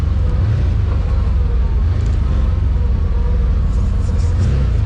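A vehicle's engine hums steadily under engine braking while driving downhill on a mountain road, with a loud, constant low rumble and road noise filling the whole stretch.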